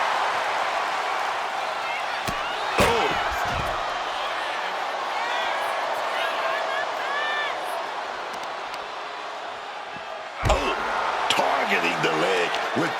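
Wrestling stomps and slams in the WWE 2K26 video game thud out as sharp impacts over a steady arena crowd roar, with a commentator talking throughout.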